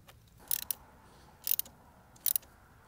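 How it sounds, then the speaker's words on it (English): Three short bursts of fast ratchet clicking as a 12V battery connector on a Tesla Model 3 is tightened down, close and crisp against a quiet background. "place the connector onto the battery, and we're going to tighten it down"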